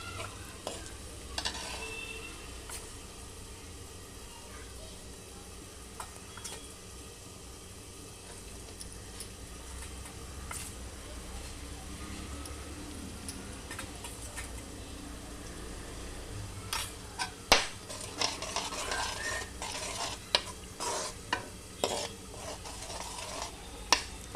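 Besan flour is stirred into pitla in a pan, giving a quiet ongoing sizzle with scraping strokes and sharp utensil taps that grow more frequent toward the end.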